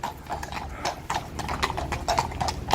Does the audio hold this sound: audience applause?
no